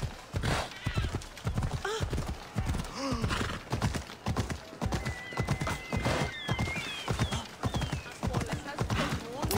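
Horse hooves clip-clop at a rapid gallop in the video game Assassin's Creed Odyssey, a dense rhythmic pounding throughout with occasional neighs and someone talking over it.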